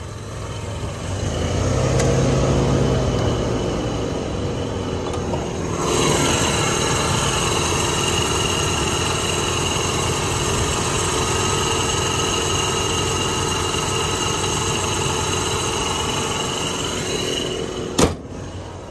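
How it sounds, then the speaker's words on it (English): A 1984 Ford Mustang LX with a six-cylinder engine and automatic transmission idles steadily nearby with a low, even rumble. A brief change in tone comes early on, and a sharp click sounds near the end. "Pretty strong sounding six cylinder."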